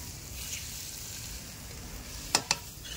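Ground chilli, cumin, coriander, Kashmiri chilli and turmeric fry in a little oil for egg dopiaza, giving a faint, steady sizzle with two brief stir clinks near the end.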